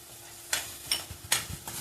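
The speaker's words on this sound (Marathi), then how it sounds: "आता आपल्याला परत थोडंसं तेल सुटेपर्यंत परतवायचं आहे" Masala spices and homemade goda masala sautéed in oil in a pan, with a soft sizzle under a few distinct scraping stirs of a spoon, close and moderately loud, with no talk.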